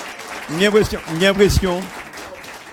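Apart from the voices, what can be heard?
audience applause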